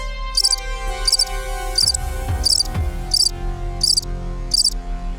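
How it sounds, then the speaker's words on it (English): Rhythmic insect chirping in steady bursts, about seven evenly spaced pulses, high-pitched and moderately loud over a low background hum. "grasshoppers make a chirping sound by rubbing their leg against their wing"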